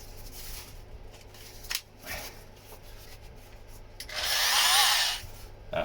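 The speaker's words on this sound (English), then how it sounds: "Oscillating cutter, fantastic little tool for when you've got to nib stuff off." A Worx oscillating multi-tool cutter slices through fiberglass in one loud, high buzzing burst of about a second, with quieter scraping and handling noises before it.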